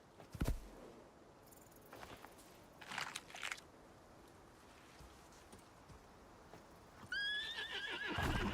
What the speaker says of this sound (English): Did both my horses just... Oh no, they're there.